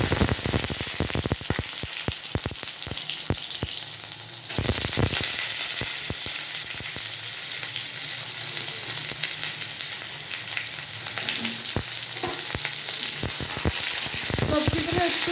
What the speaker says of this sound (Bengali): পাঁচফোড়নটা 10 সেকেন্ড ভাজার পর এতে আমি সবজিগুলো তুলে দেবো।